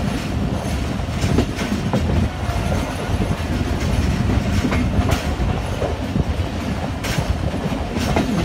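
Jaffar Express passenger train moving through a railway station, giving a steady loud rumble with rhythmic clickety-clack of wheels over rail joints throughout; no voices.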